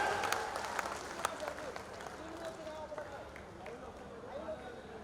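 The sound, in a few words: crowd clapping for countdown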